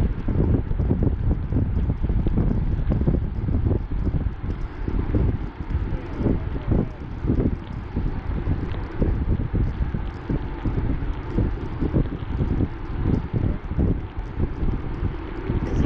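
Wind during a rainy countryside stage of an amateur cycling road race, a continuous low rumbling buffet of wind noise on the microphone with gusty fluttering bursts and no talking.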